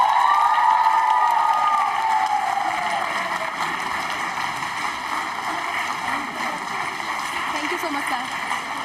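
Audience applause and cheering fill a college hall during a Navratri quiz show, a dense, steady roar of clapping that carries on throughout, with voices mixed in.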